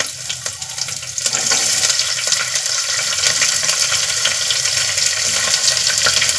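Curry leaves and thinly sliced onion going into hot oil in a pan for tomato pulao, giving a steady broadband sizzle that jumps louder about a second in and holds without any talk.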